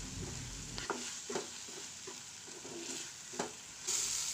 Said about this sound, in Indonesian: Kemudian aku tumis bumbu sambalnya hingga dia matang.